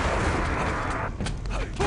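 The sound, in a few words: shotgun fire in Quake Live (video game)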